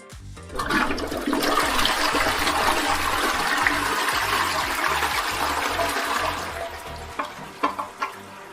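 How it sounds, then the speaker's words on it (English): A toilet flushes up close with a loud rushing swirl of water for several seconds, then tapers into gurgles and a few drips as the tank refills. "Toilet flushing."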